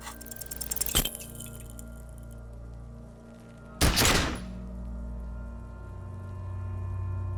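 A single pistol shot from the video game Disco Elysium cracks out sharply, preceded by a faint metallic click and followed by a low rumbling ambient drone.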